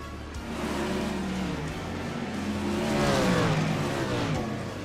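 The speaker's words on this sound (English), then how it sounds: "Look at how many cars we have running in this track." 410 wingless sprint cars racing at Huset's Speedway, a loud continuous engine roar with rising and falling revs as several cars pass, swelling to a peak near the end of the stretch.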